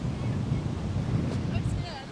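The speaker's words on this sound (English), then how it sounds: "It is terribly windy." Strong wind blows outdoors and roars steadily into the microphone with a low rumbling buffet, alone and constant for a couple of seconds.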